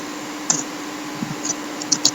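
A few sparse keystrokes on a computer keyboard while code is typed into a Jupyter Notebook. The separate clicks come at uneven intervals over a quiet, steady background hum.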